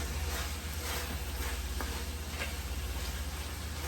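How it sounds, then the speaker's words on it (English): Beef and potatoes get a last stir in a skillet, giving a steady soft sizzle with faint scraping and tapping strokes over a constant low hum. "Just gonna give it a final stir."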